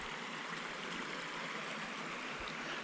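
Sugar Hill Brook flows in a steady, full rush of water, continuous and fairly close, with no voices over it.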